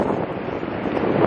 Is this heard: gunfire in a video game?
no